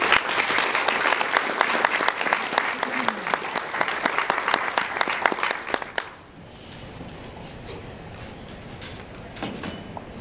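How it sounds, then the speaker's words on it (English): Audience applause at a Central Missouri suicide survivor award ceremony greets winner Melody Seeger, loud dense clapping for about six seconds before cutting off abruptly to quiet room tone with faint sounds. "Ladies and gentlemen, will you please give a warm round of applause to Melody Seeger."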